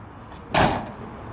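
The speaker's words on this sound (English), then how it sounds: "Can we please shut the door?" A door is shut once nearby, giving a single short, solid slam that rings briefly and fades against a quiet room.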